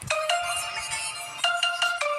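A phone ringtone plays alone, a bright repeating electronic chime in two bursts of quick tonal notes, clear and close.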